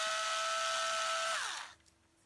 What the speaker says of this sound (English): So again, more screws. So we'll just take them off first.